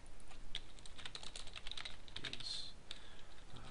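Rapid, irregular typing on a computer keyboard with sharp, close clicks in uneven bursts, heard alone and fairly quiet while entering an item name for an online RPG game.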